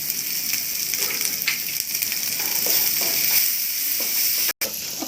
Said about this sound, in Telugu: ఉల్లిపాయలు ఫ్రై అయిపోతాయి